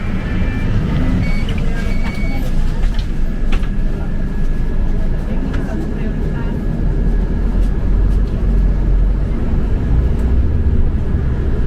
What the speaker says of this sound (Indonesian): kita udah di bus Transjakarta gandeng Scania